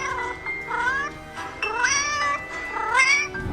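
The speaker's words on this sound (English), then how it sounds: "Wilfred Warrior is a 2-year-old chinchilla Persian cat" A chinchilla Persian cat meows repeatedly at close range, giving several drawn-out, wavering cries with short gaps between them, loud and clear with no talking over them.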